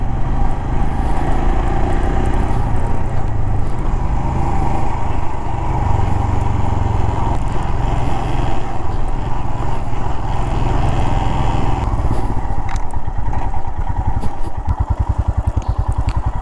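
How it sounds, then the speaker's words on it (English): Royal Enfield Himalayan motorcycle ridden over off-road tracks, its single-cylinder engine thumping steadily and close up for the whole stretch, with a rougher, choppier pulse toward the end. "Now I'm sitting on the motorcycle and going through some off-roads"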